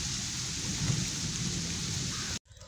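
Rain falls at night in a village, a steady broadband hiss of drops on surfaces with a faint low rumble beneath, cutting off abruptly near the end.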